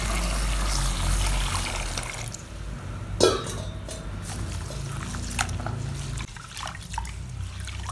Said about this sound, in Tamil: ஒன்றரை கிலோ அரிசி ஊற வச்சுருக்கேன் இதை நல்லா கழுவி எடுத்துக்கலாம்